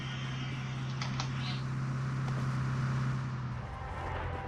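A vehicle driving in the mobile game PUBG Mobile, a steady low engine hum with a constant drone that fades slightly near the end, plus a few faint clicks in the first seconds.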